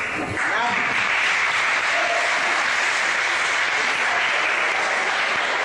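An audience of American kids at a Q&A session claps loudly and continuously, a thick, even wash of applause with no pauses.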